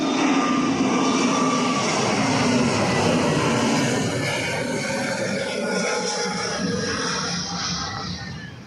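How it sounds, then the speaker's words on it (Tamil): Airplane taking off at Trichy airport, its engines a loud, sustained broadband roar that holds steady throughout and eases slightly toward the end, with no talk over it. "நம்ம அங்கே பார்த்த ஃப்ளைட் இப்போ தான் இங்கே டேக் ஆஃபே பண்ணுறாங்க."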